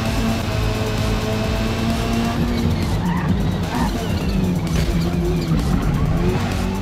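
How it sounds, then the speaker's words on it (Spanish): Race car tires squeal and skid across asphalt in the Forza Motorsport racing game, a continuous scrubbing whine over a steady engine drone that persists throughout. "las gomas van a patinar en la salida de las curvas arañando el asfalto"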